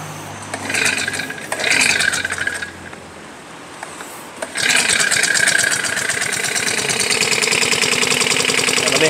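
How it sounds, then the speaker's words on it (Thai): A Chinese GX35 brush cutter engine just started with the choke still on, first sputtering and surging unevenly, then revving up to a loud, steady high-pitched buzz close by. "ติดครับผมเครื่องติดนะมาเร่งกันดูครับ"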